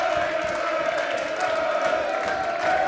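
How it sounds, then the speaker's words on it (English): Darts crowd at an international pairs Finals Night roaring in a sustained, dense wash of cheering and whoops, loud and steady throughout with no clear pauses. "Well, that might well be the biggest cheer we see tonight."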